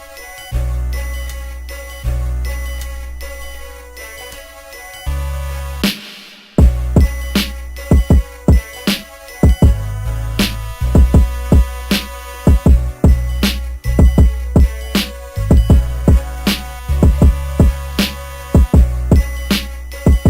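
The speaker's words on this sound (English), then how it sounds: "So I think we got a beat here." Beat made on an Akai MPC Live plays back loud, with punchy regular drum hits, bell-like melodic tones and a deep bass line, a short break and filter sweep near the start, then a steady groove.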